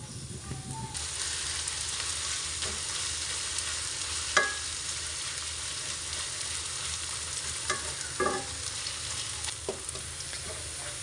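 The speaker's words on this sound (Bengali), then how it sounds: "এখন অনবরত নাড়াচাড়া করে পেঁয়াজের বেরেস্তাটা করে নিয়েছি।" Onions for halim beresta fry in hot oil with a soft, even sizzle, stirred continuously, with a few light scrapes and taps of the spatula against the pan, close and moderately quiet.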